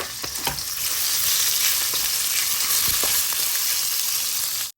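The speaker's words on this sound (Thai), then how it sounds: "กระเทียมลงไปค่ะ เทียมหอมก็ใส่หมูสามชั้นลงไปผัดนะคะให้สุก" Garlic and pork belly stir-fry in a pan for Korat-style fried noodles, a loud, steady crackling sizzle close up with repeated scraping stirs, ending abruptly, no voices.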